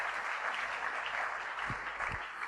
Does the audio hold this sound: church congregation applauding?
yes